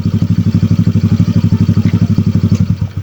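A motor scooter with an Akrapovic exhaust idles close by with a steady, rapid chugging pulse and a faint clicking rattle from the CVT riding on the engine beat.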